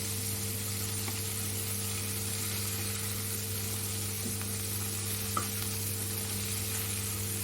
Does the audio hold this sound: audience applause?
no